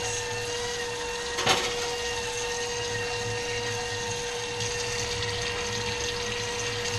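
Running tap water pours over a kitchen whisk and microplane grater being washed, a steady faint rush with a persistent tonal whine, one brief clatter early on, and no talking.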